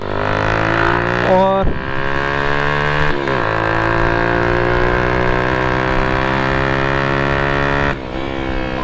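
A Hi Speed Infinity SR150 150cc motorcycle engine runs steadily and loudly, with a couple of brief revs shifting the pitch before settling back to a constant drone.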